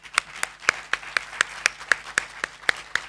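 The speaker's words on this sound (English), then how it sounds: "So a big applause for Vera" Sparse, evenly spaced claps at a conference talk, about a dozen in three seconds, fairly close and moderately loud with no voices over them, sounding like a single person or a very small audience.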